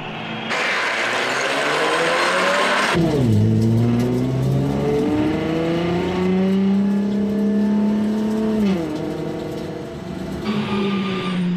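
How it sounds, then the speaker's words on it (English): Racing cars in Gran Turismo 5 roll through the formation lap of the Nürburgring 24 Hours, their engine drone climbing and falling in pitch as they rev and shift, loud and continuous. "And the formation lap starts."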